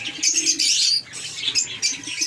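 Pigeons in a breeding cage with an egg and a chick give soft close chirps and cooing, with brief wing flutters mixed in, fairly loud and without talk.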